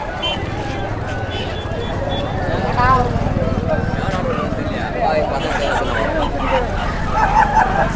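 Roosters and other fowl at a village poultry market honk and cluck over a constant hubbub of crowd chatter, with people talking nearby throughout.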